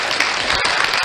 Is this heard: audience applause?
yes